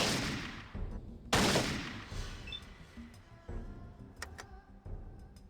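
Gunfire from Fallout 2 breaks out in sharp, fairly quiet bursts, a couple of strong cracks followed by scattered smaller shots and ticking game effects, with no talk.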